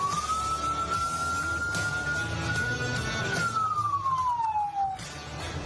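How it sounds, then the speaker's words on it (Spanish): A single electronic siren wail rises, holds a long steady tone, then slides downward, sounding fairly close over low traffic rumble. "¿Preguntado qué significa cada sonido de la ambulancia?"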